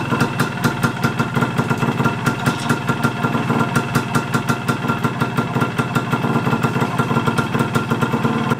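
A Yamaha DT125 motorcycle engine idles steadily, with a rapid, even two-stroke putter that holds close and fairly loud throughout.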